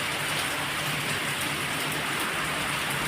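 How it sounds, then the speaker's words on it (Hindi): Steady, dense rain pours down, a constant hiss of drops hitting surfaces nearby with no voices. "देखो बारिश शुरू भी हो गई है। काफ़ी तेज़ बारिश होगी ऐसा लग रहा है"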